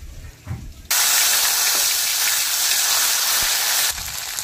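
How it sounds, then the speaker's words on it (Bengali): A paste of ginger, cumin and dry red chilli goes into hot oil after whole cumin seeds, bursting into a loud, close, steady hiss that lasts about three seconds before dropping back down. "আদা, জিরে আর শুকনো লঙ্কা বাটা একসাথে ফোড়নের পরে দিয়ে দিচ্ছি তেলে"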